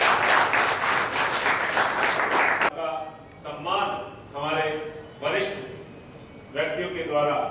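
An audience at a welcome ceremony in Churu claps loudly for under three seconds, then the applause cuts off and someone speaks over a microphone.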